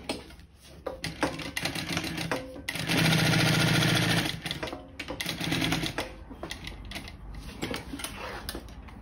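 A sewing machine stitches a seam on a gusset in short bursts, then runs in one fast rapid-fire whir for about a second, with softer clicks and handling noise between runs.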